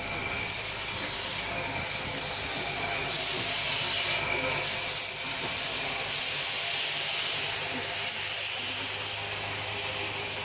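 Steam locomotive on Tasmania's Wilderness Railway, venting steam in a steady, loud broadband hiss that swells and eases across the clip, with faint background murmur beneath.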